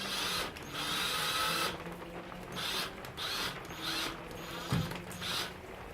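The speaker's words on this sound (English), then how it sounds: "we will attempt to put a screw" A screw is driven into wood outdoors in the rain, giving a faint repeated whirring and ratcheting grind in several short bursts with brief pauses between them, over a steady hiss of rain.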